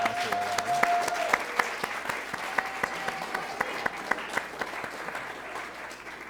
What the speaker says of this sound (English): A round of applause for Austin and Rod